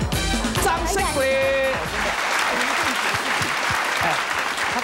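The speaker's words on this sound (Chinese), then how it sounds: "掌声鼓励。" Studio audience on a Taiwanese television variety show breaking into applause, a dense wash of clapping that swells loud and holds steady, with cheers and voices in the crowd at the start.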